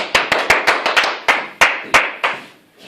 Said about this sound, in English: Please everyone receive with a hard clap to Arlette García.